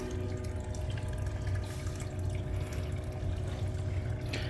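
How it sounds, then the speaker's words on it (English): A sump pump moves water for a homemade swimming pool heater, giving a continuous low motor hum under steady trickling and splashing water. It is close and even throughout, with no talking. "the sump pump is being powered with from my house"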